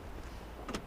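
A 2007 Lexus GS 450h door unlocking from the handle button, giving a short, faint mechanical clunk near the end of a quiet moment with no talking.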